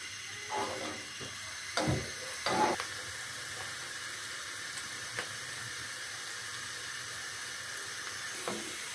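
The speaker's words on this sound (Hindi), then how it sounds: "इसको तेज आंच पर फ्राई करेंगे" Chopped onions frying over high heat for shahi chicken korma give a steady, moderately loud sizzle and hiss throughout, with a few brief clatters of stirring near the start and end.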